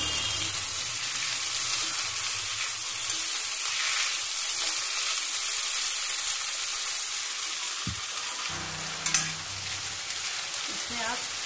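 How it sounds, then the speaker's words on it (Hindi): Chopped boiled mushrooms and corn frying in a pan, giving a steady loud sizzle and hiss throughout, with a brief clatter of stirring near the end. "इसमें मशरूम डाल दीजिए, बॉइल्ड मशरूम"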